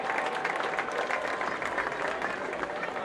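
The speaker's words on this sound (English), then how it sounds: "how about one more big round of applause, ladies and gentlemen" Crowd applause at a race track ahead of a memorial race, broad sustained clapping and cheering from the stands that holds steady for several seconds without any speech on top.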